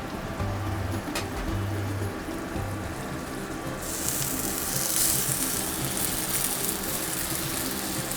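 Roasted peppers and oven-roasted tomatoes tumble into a hot pan for veggie spirals, setting off a steady broadband sizzle that swells brighter and louder partway through, with a few soft low thumps as pieces land early on.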